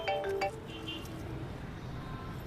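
A mobile phone ringtone plays a brief bright melodic phrase at the start, then cuts off, leaving a dull room hum with no talking.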